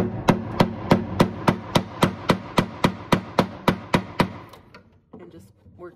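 Chisel struck with a mallet while working wood on an old dresser under repair, about fourteen sharp, evenly spaced knocks in a steady rhythm, then quieter scraping and faint talk near the end.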